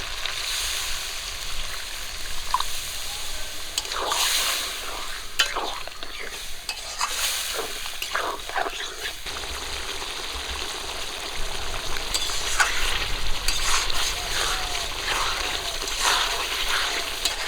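Water poured into frying chicken curry masala, a steady close sizzle and scraping of stirring with bursts of splashing and hissing, then a fuller bubbling rush as the liquid heats.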